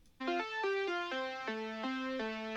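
A second synth lead layer in FL Studio enters abruptly and plays a slower melodic line of sustained, buzzy tones with distinct note changes, clean and unaccompanied.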